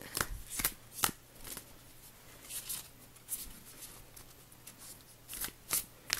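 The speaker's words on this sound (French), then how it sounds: "On va essayer de mélanger un petit peu, voir quel message on peut avoir avec ce jeu." Oracle cards from the Illuminated Earth deck being shuffled by hand, producing short papery riffles and slaps in irregular bursts, close and clear with no talk over them.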